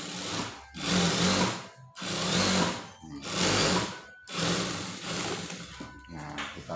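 A sewing machine stitches school trousers with a slanted front pocket in four loud whirring bursts, each separated by a brief silent pause, running close and alone.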